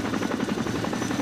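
A helicopter approaches in the video game Arma 2, its rotor giving a steady, rapid thumping chop that stays loud and close throughout.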